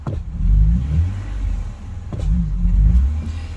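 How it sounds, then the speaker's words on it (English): A car engine revs under throttle but sounds strained and sluggish, rising and sagging in a low rumble, close by with no talking. "I'm gonna hit the gas fairly hard. You can see it just bogs itself down."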